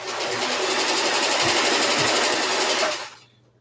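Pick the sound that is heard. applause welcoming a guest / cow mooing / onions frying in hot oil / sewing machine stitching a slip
sewing machine stitching a slip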